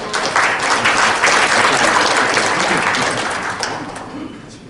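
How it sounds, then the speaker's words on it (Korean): A crowd at a Korean forum founding ceremony applauding a guest vice-chairman, loud sustained clapping from many people that swells then gradually fades toward the end. "힘찬 박수 부탁드리겠습니다."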